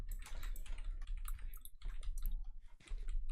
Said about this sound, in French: J'entends un clavier ou c'est moi?